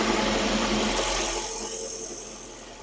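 A woodturning piece being sanded on a lathe, a loud steady whirring rush that gradually eases and fades over a few seconds, with no talking.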